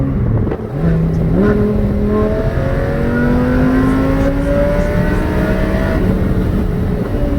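A Lamborghini Huracan on a street pull, its engine revving hard and climbing steadily in pitch after a brief dip, loud and continuous with no voices.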